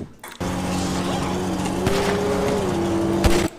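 A car engine drones steadily in a video game during a convoy chase, loud and close, its pitch wavering and rising slightly, with a couple of sharp knocks near the end.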